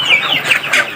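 Darag native chickens on a farm cluck in quick, bright bursts, close and fairly loud, several birds overlapping over about a second.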